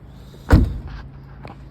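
A single car door thuds shut at close range, one sharp heavy impact followed by a short low rumble, then quieter handling sounds and background noise.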